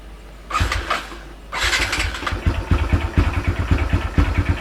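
A Yamaha LC135 motorcycle fitted with an MVR1 camshaft cranks and fires up after a brief pause, then settles into a steady, slightly lumpy idle with a rhythmic pulse, loud and close.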